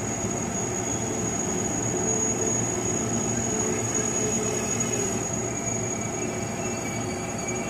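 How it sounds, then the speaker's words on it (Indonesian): KRL commuter train bound for Bogor at Depok station, a steady loud rumble of rolling railcars with a faint high wheel squeal running throughout, close by and without speech. "ini komuter tujuan Bogor"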